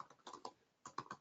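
Keys clack on a computer keyboard while someone types into an Excel financial report, two short bursts of quiet, close keystrokes separated by a brief pause.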